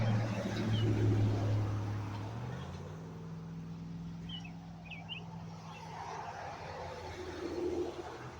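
Road traffic passes outdoors: a vehicle's engine drones nearby and fades as it goes by, leaving steady low road rumble with faint bird chirps, while someone talks over it.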